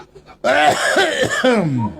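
A man coughs hard in a close, loud burst of several rough, hacking coughs, strained and throaty, lasting about a second and a half.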